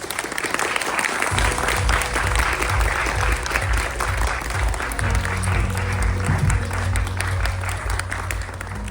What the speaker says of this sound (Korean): 여러분, 큰 박수로 김대관 박사님을 모셔보겠습니다.